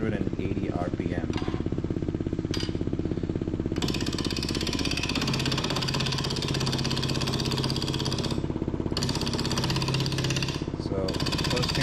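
Maple bowl turning on a wood lathe running at 980 RPM, a steady loud motor hum with a sustained low tone and dense rattling, continuous throughout and heard close up.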